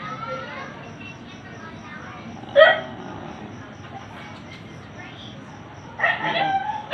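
A dog barks in short bursts, a sharp yelp midway and another flurry near the end, with a person talking in the background throughout.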